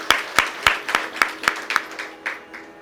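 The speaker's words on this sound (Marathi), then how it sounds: "त्यांचं सर्वांनी टाळ्या वाजून स्वागत करायचं आहे." Rhythmic, evenly spaced hand claps ring out at a devotional discourse to welcome a revered swami, roughly nine sharp, close claps in steady unison that fade toward the end, with no talking.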